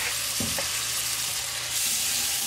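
Tomatoes are stirred into spices frying in a tadka for chana dal, giving a steady sizzle with a couple of brief scraping stirs near the start.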